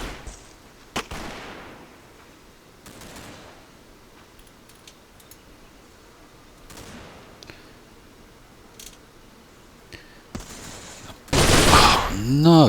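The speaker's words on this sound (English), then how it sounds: "no, heavy machine gun" Heavy machine gun fire in the wargame Combat Mission erupts as a loud, dense burst near the end, after scattered quieter clicks and shots.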